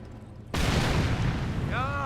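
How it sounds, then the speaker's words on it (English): A landmine detonates in Company of Heroes, a sudden loud blast cutting in from near quiet and rolling on as a sustained rumble, with a chirping whistle-like effect rising near the end. "Landmine detonated."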